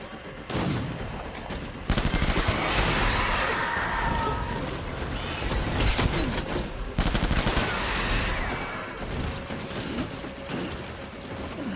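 Gunfire in the video game Death Stranding: sustained bursts of rapid automatic shots and heavy booming blasts, loud and dense, filling the whole stretch with brief pauses between volleys and no clear talk.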